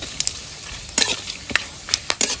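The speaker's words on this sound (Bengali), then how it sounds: "এইবার তেজপাতা ফোড়ন দিয়ে দিচ্ছি।" Bay leaf, cloves and cardamom tempering in hot oil for bhuna khichuri, a continuous close sizzle broken by sharp spattering pops and crackles at irregular intervals.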